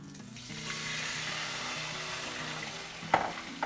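Garlic and red pepper flakes in butter sizzle loudly and steadily right after dry white wine goes into the pan for shrimp scampi, a close, continuous hiss with a sharp splash near the end.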